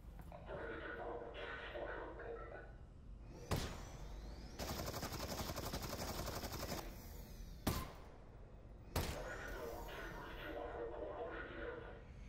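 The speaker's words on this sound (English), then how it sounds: "Now you're shooting at me." Enemy gunfire in the Half-Life: Alyx video game: sharp single shots and one sustained rapid burst break through between stretches of a voice talking.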